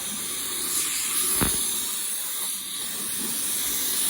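A spray gun held close to the panel lays down a second coat of clear coat with a continuous, near hiss that holds steady throughout.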